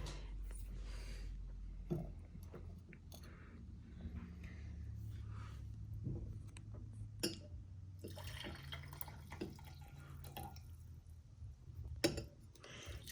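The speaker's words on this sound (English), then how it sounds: "And go ahead and decant the tea." Tea is decanted into cups of ice, making faint, close trickles and occasional drips and soft clinks over a quiet background.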